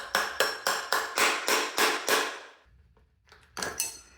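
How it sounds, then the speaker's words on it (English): A hammer drives a hex bit into a stripped bolt during rear shock absorber replacement on a 2011 Mazda CX-7, with about eight sharp, evenly spaced metallic blows, a short pause, then one more strike. "I will try to hammer this bit in one more time."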